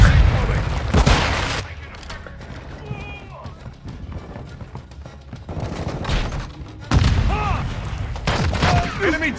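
Explosions and gunfire in a first-person shooter video game, with loud bursts near the start and again toward the end, dense broadband blasts over continuous battle noise while players shout and talk throughout.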